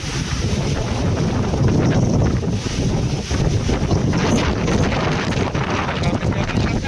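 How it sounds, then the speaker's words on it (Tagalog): Strong typhoon wind roars and buffets the microphone continuously in Pangasinan, a dense rushing noise with gusty surges and no pause. "Hangin."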